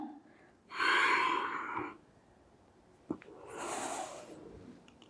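Two slow, deep breaths during a seated back-stretching exercise: a loud, airy breath about a second long, a pause, then a softer, longer breath. No one speaks.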